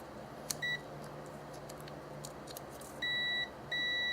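A continuity tester beeps while probing a Dodge Dakota windshield wiper motor with a short inside: a brief high electronic tone, then two longer steady beeps close together, over a faint background hum.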